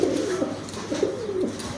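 Pigeons cooing in a loft, including Hena Putar pigeons, several repeated low throaty coos close by with faint background noise.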